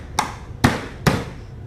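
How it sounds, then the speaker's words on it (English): A Dremel box is tapped into place beneath a motorcycle's rear wheel with three sharp, evenly spaced knocks, close and fairly loud, each a brief hard thud with a short ringing tail. "I just slide the Dremel box underneath, give it a good tap in there"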